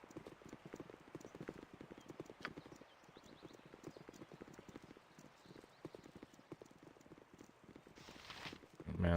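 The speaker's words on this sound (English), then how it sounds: "You're gonna get run over by a horse and cart, man." A horse and cart roll along a road in Baldur's Gate: Enhanced Edition, with steady, close clip-clopping hooves through the whole stretch and a louder burst right at the end.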